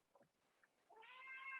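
A pet cat gives a faint, short chirp, then a longer, drawn-out meow swelling in the quiet of a room.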